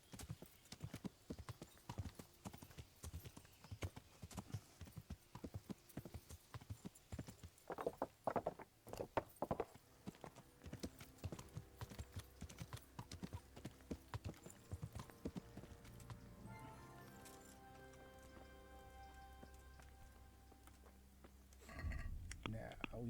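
Horse hooves clip-clop in a steady, rapid rhythm for a long stretch in the video game Kingdom Come, with faint voices and game sounds, slowing toward the end.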